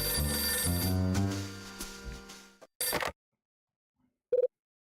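A phone ringing in the Nintendo DS game Last Window: The Secret of Cape West, a sustained electronic ring lasting a couple of seconds, followed by a short burst of clicks and a brief beep, with no talking.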